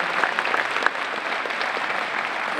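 Sustained audience applause at a Reaching for Rainbows 2025 gathering, a steady wash of many hands clapping with some louder close claps early on, fairly even throughout.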